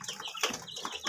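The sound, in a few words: Texas chickens clucking in backyard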